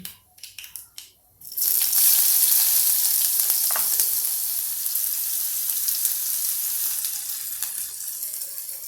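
A few light clatters, then chopped onion drops into hot oil in a frying pan already holding plenty of garlic for dill leaf (shepu) bhaji, bursting into a loud, close sizzle that holds steady and hissing.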